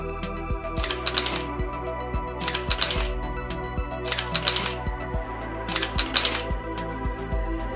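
A Fujifilm XF camera shutter fires a five-frame exposure bracket as a series of sharp, close mechanical clicks grouped in short bursts, with a faint steady hum behind them and no voices.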